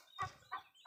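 Young turkey poults give three short, faint chirping calls in quick succession, each lasting only a fraction of a second.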